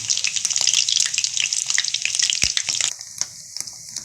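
Small shrimp fritters (ukoy) fry in hot oil with a dense, bright crackling sizzle and scattered pops, easing slightly toward the end.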